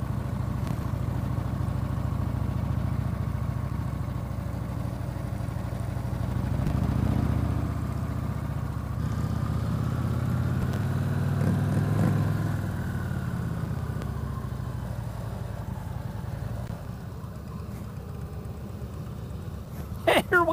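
A car engine labors up a hill climb road at a meet in Pigeon Forge, its low drone rising and falling as the gears change, heard steadily from inside the car with no clear talk.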